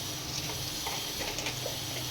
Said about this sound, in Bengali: আগে পেঁয়াজটাকে ভালো করে ভেজে নিয়ে তারপরে আমি মশলাটা দেবো।